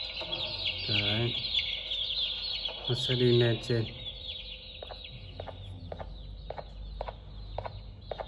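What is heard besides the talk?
chicken clucking in a video game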